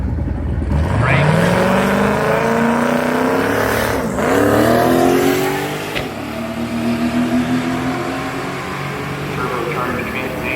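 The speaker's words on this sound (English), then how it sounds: "Turbocharged Trans Am. There it goes." A turbocharged Trans Am driving past, its engine note rising and falling with rising revving tones, loud and close before fading, with someone talking over it.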